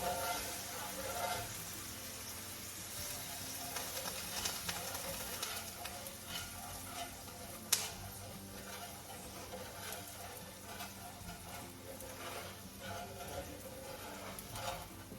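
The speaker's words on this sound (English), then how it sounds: "You're going to pour in a cup of water." Water poured into a hot skillet hisses and sizzles softly as it deglazes pan drippings from a roast, a faint continuous crackle with light scraping and stirring and one sharp clink partway through.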